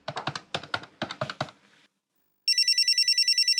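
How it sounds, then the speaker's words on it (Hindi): A quick series of light taps, like buttons being pressed, gives way after a short silence to a telephone ringing for an incoming call in rapid, even electronic pulses, clear and close. "पापा का फोन आ रहा है"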